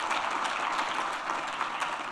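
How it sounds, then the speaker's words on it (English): Audience applause fills a conference room at a paediatrics event, a steady continuous clapping texture at moderate level with no speech over it. "A lot of applause in the room in case you can't hear it"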